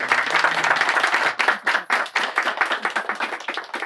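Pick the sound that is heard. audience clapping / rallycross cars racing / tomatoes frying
audience clapping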